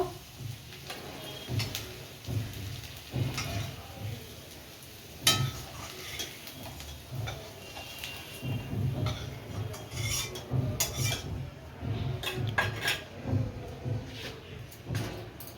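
Fried onion and garlic lifted out of a pan, with soft scattered clicks, scrapes and taps of a utensil against metal at close range, no speech.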